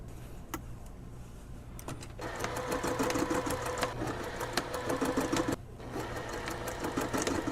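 A sewing machine stitches elastic casing on a puffy shoulder sleeve: steady motor whir in bursts with a short pause, then running again, close and fairly loud with no talk.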